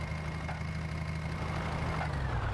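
A Mahindra tractor engine in a tractor-driving video game, climbing a steep hill under a full load, gives a steady low drone that holds level and close throughout with no breaks.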